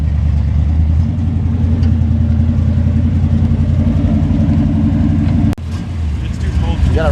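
A 1969 Chevrolet Chevelle engine runs loud and close with a throbbing idle rumble, a brief drop in level, then a slight rev, with voices talking over it.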